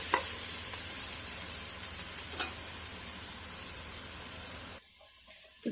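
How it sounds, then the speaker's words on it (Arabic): Two sliced onions frying in a pan for a red taro dish, a steady dense sizzle and crackle with a couple of brief pops, fairly close, before the hiss suddenly drops to a quieter spitting near the end. "انا بحمر هنا بصلتين اهم مقطعاهم"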